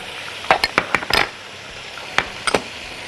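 Chicken, garlic and onion cook in butter in a pan, a faint steady sizzle beneath a series of sharp utensil clinks and scrapes against the pan.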